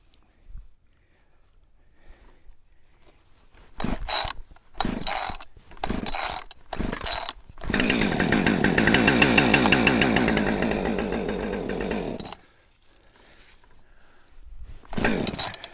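Husqvarna chainsaw being started on a cold morning beside a pile of red oak logs: several short pull-start rattles and sputters, then about five seconds of loud running engine before it cuts out, and another brief burst at the end.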